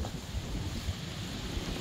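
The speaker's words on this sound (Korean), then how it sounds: "바람 부는 거 보소" Strong wind blows outdoors by a mountain valley at a spring flower festival, a steady broadband roar with rumbling gusts buffeting the microphone throughout.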